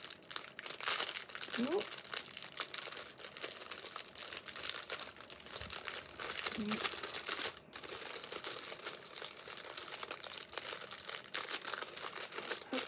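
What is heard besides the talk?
crinkling packaging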